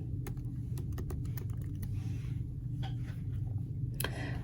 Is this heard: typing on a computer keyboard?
yes